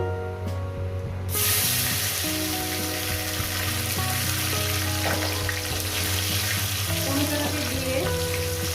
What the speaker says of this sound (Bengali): আমি মিনিমাম এক থেকে দেড় মিনিট একটু ভেজে নেবো